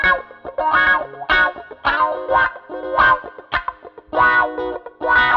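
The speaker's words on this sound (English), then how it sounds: "Let's see how the optically based Bad Horsie sounds with a funky sounding riff." Electric guitar plays a funky, choppy riff through a Morley Bad Horsie optical wah pedal, with short rhythmic bursts that sweep and quack in a repeating pattern, loud and alone.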